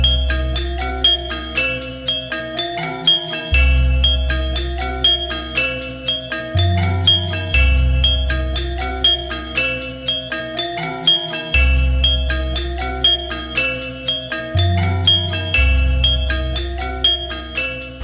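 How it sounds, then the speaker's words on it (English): An Indonesian gamelan ensemble plays together, with deep gong tones booming in a steady repeating cycle under a busy layer of bright, rhythmic metallic melody, continuous and full throughout. "Now let's take a listen to the Gamelan ensemble all together."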